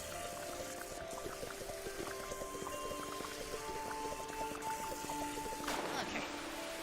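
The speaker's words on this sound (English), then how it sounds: "I'm gonna drink some of your water with my little vacuum" A cleaning vacuum in the video game Fresh Start Cleaning Simulator sucks up water, a continuous gurgling, trickling slurp with a steady hum and a louder splashy surge near the end.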